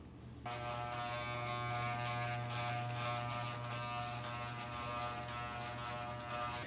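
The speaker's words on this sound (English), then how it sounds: "I'm going to put the shortest guard that I have on and I'm gonna continue flicking right at the line." Electric hair clippers fitted with the shortest guard buzz steadily and close by with a constant motor hum, lever set to the shortest length, running without pause and without talk.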